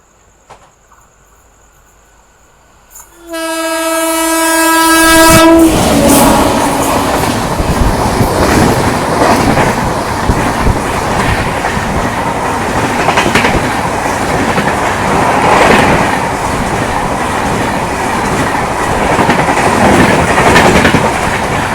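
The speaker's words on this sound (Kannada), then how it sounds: "ಫುಲ್ ರಾಕೆಟ್ ಸ್ಪೀಡಿಂದ ಬರತ್ತೈತೆ ನೋಡ್ರಿ ಇದು ಮಾಂಡವಿ ಎಕ್ಸ್ಪ್ರೆಸ್" The Mandovi Express thunders past at full speed after a rising horn blast, a loud, close, continuous roar of rolling coaches with rhythmic clickety-clack of wheels over rail joints.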